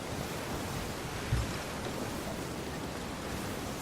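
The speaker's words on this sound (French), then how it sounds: "Regardez les vagues." Ocean waves in the pirate game Sea of Thieves roll in a steady, dense wash of surf and wind, filling the scene without a break.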